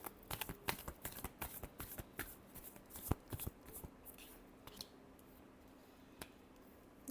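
Tarot cards riffle and snap in a quick run of close, crisp shuffles, the flicking bursts thinning out into a quieter stretch with a few stray taps near the end.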